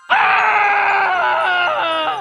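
A giraffe lets out a drawn-out, agonized scream as a sound effect in a horror narration, one loud, sustained, wavering cry lasting about two seconds.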